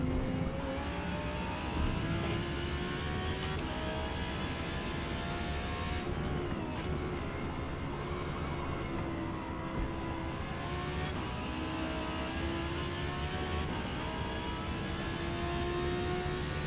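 A race car engine in the Forza Motorsport video game roars continuously during a lap, its pitch rising and falling through gear changes and acceleration, loud and steady with no talking.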